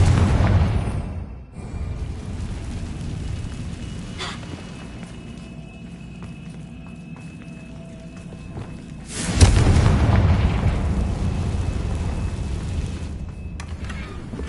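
Confringo blasting spell in Hogwarts Legacy, a sharp blast near the start and a louder, booming explosion later with rumbling tails, over a steady low game ambience.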